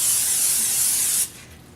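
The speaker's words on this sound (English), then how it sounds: "we're also going to take a 9-inch pan, and we're just going to give it a quick spray" Cooking spray hisses briefly into a 9-inch cake pan for an apple cake, a single loud close burst of about a second that then cuts off.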